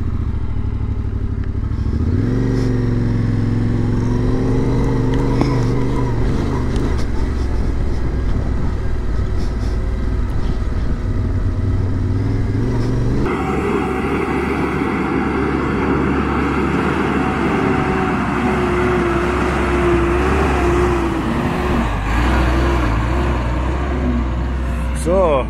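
Cars pass a motorcycle waiting on a road near a construction site, each vehicle swelling and fading in a continuous engine roar with the bike idling nearby and someone talking throughout.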